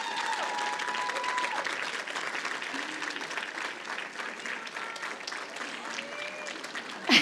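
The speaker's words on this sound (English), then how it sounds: "I would actually like you guys to stand up and applaud those people in those 3" Graduation ceremony audience applauding steadily throughout, a dense sustained wash of clapping from a large crowd with faint voices underneath and a brief louder burst at the very end.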